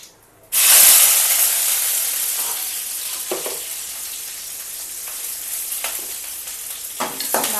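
Onion, curry leaves, dried red chilli and mustard seeds sautéing in hot oil for a South Indian carrot stir-fry, a sudden loud sizzle that settles into steady hissing with scattered pops and stirring scrapes.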